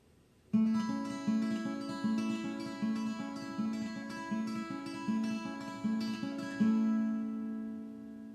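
Fingerpicked acoustic guitar plays a steady, bright arpeggiated pattern, close and clear, with notes ringing into one another before a final chord sustains.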